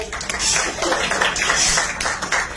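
Audience applause for the actors at a live Bhojpuri film event for Rang De Basanti, a steady wash of clapping that fills the whole stretch at moderate loudness, with voices mixed in.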